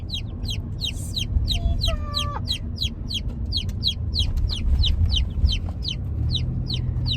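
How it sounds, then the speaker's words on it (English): Newly arrived baby chicks peep in a rapid, regular series of bright cheeps. A louder, longer call cuts in briefly, and a low rumble like a vehicle runs underneath. "It's going to be a new process for us incorporating new chicks into an established flock."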